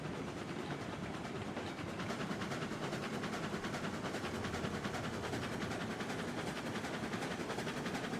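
Two steam locomotives double-heading a 25-car train across a bridge in the RAILROADS Online video game, a loud continuous rapid chuffing and rhythmic clatter running steadily throughout with no talking.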